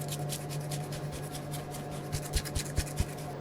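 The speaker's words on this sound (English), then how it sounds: "Then we're just going to grate some parmesan over the top." Parmesan cheese grated over a dish: a quiet, steady rasping scrape repeated in quick strokes close by, over a low background hum, with a few soft knocks near the end.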